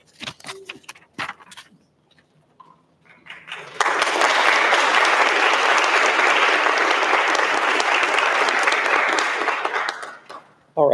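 At a Phi Beta Kappa induction ceremony, a crowd breaks into loud, sustained applause lasting several seconds after brief spoken remarks, then it stops abruptly.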